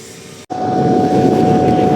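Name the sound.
MIG welding arc being started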